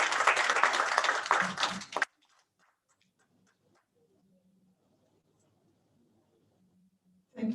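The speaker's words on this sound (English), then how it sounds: "Please, a round of applause for our president." Audience applause for the newly invested chairman of CITN Lagos District at a formal investiture ceremony, a loud burst of clapping lasting about two seconds, then near silence with faint ticks, and clapping starting again at the very end.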